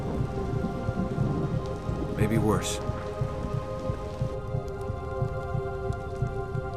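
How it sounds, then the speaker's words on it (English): Steady heavy rain pours through a storm scene in the X-Men: Destiny video game, with a single thunder crack and rumble partway through, while a voice speaks briefly over the downpour. "Well, it looks like there's another storm coming as bad as what we just faced."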